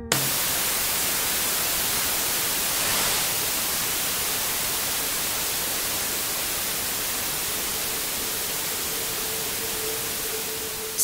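Steady, unbroken white noise hisses through headphones during a Ganzfeld sensory isolation experiment, loud and uniform for the whole stretch with a faint hum underneath.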